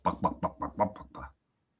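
A human voice imitates a chicken clucking, about seven quick rhythmic clucks close to the microphone, then silence.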